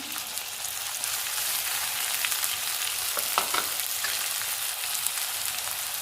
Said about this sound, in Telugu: అల్లం, ఇవన్నీ ఫ్రై చేసుకున్నాము.